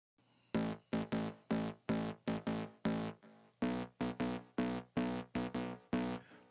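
A distorted rhythmic synthesizer from a song mix pulses in short, gritty, harmonically dense stabs, about a dozen in quick syncopated groups, loud and alone with brief gaps between hits.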